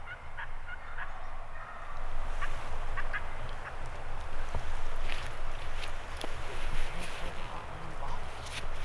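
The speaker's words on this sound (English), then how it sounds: "Turkeys I'm hearing is up here, and then there's a far turkey on the other side." Distant wild turkey gobbles ring out a few times over steady outdoor noise in Oregon, faint and far off rather than close.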